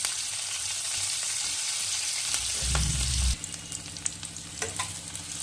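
Onions and green chilies fry in a pan with a steady close sizzle. A heavier scraping stir swells midway, then the frying continues more quietly, with occasional spoon clinks against the pan.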